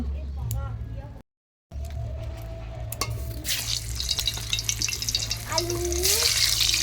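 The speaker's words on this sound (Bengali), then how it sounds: "এই যাচ্ছে আমাদের সর্ষের তেল তো অনেকটা সর্ষের তেল চলে গেল" Mustard oil poured into a hot wok over a wood-fired stove for a country chicken curry, a close sizzle and crackle that builds and grows louder, with someone talking over it.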